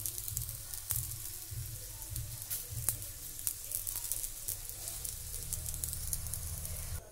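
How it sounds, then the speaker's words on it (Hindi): A roti roll roasting in oil on a hot pan, a quiet continuous sizzle with occasional soft taps and pressing sounds, no voices heard. "फ्रेंड्स रोल को हमें दोनों तरफ से अच्छे से सेक लेना है।"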